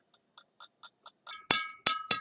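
A glass of calcium chloride solution is stirred after sodium hydroxide is added: a spoon makes a run of light, evenly spaced ticks against the glass, then a few louder, ringing clinks, close up and with no talk.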